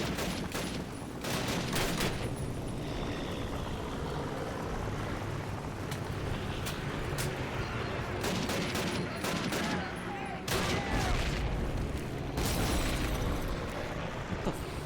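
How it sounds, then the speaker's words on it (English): Constant heavy gunfire and repeated loud grenade blasts fill a Call of Duty World War II battle, dense and continuous with bursts of explosions throughout. "What the fuck is with all these grenades, man?"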